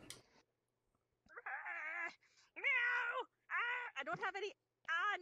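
A house cat gives a series of loud, drawn-out, wailing meows at close range, each cry rising and falling, with short pauses between them.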